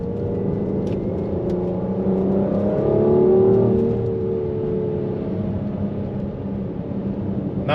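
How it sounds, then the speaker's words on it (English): A Mercedes-AMG GLC 43 engine revs up under acceleration and drops through a downshift on an uphill climb, heard as a loud, rising then settling growl from inside the car. "The engine definitely, you can hear it downshifting right there."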